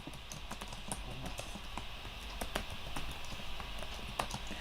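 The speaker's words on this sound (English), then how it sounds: "I am typing in a little welcome for everyone." Rapid, irregular clicking of keys on a computer keyboard, a steady close patter of taps over a constant background hum, with no voices.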